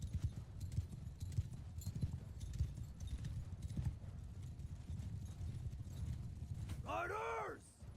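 Hooves clatter in a rapid, continuous gallop under battle noise in the video game Bannerlord, and a horse whinnies loudly near the end.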